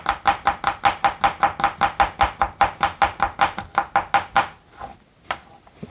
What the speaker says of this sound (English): Get to chopping.